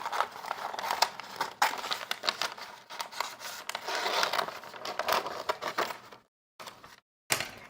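Scissors cut through quilted fabric to open a jacket neck hole, producing close, crisp crunching snips and rustles in an irregular rhythm that stop briefly near the end before one final snip.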